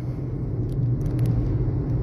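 A Brazilian Federal Police van rolls past with a steady low engine rumble, close and continuous for two seconds, with no voices.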